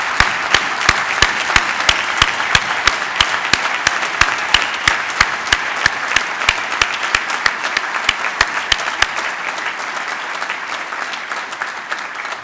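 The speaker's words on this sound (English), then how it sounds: "please join us in a round of applause for our graduates, honorees, and families" An audience at a graduation ceremony applauds the graduates, honorees and families with sustained dense clapping that keeps an even level for about nine seconds before easing slightly near the end.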